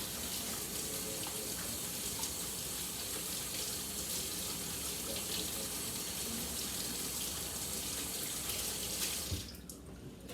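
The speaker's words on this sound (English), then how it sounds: "I'm just gonna rewash my hands." A kitchen tap runs in a steady, close rush while hands are rewashed during meatloaf prep. The water shuts off abruptly near the end.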